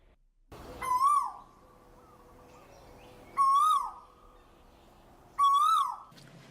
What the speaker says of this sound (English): in this episode where you hear this bird screaming